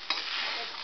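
Spoon stirring sabudana and potato khichdi in a pan over low heat, a soft continuous sizzling scrape, brief and quiet.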